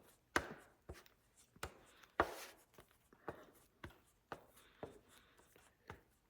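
Bondo Ever-coat Rage Ultra body filler is worked on a mixing board for a 1968 Corvette rear quarter repair, a quiet, regular series of dull pats and scrapes repeating roughly every half second.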